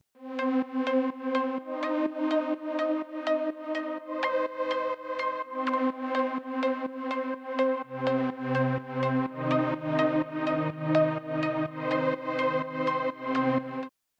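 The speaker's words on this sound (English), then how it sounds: "for the second verse, I have some of these synth pads" Layered Serum synth pads in a tech house track play sustained chords with a pulsing rhythm, and a deeper bass layer joins partway through. No voices, just steady music throughout.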